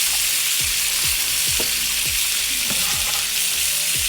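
Pork chops sizzle steadily in a pan with butter, garlic and herbs after the heat is switched off, with a spoon or spatula stirring and scraping in several repeated strokes over the constant frying hiss.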